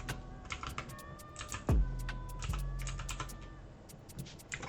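Typing on a computer keyboard, a quick run of light, irregular clicks entered as an account title, with one louder thump partway through, close and alone without speech.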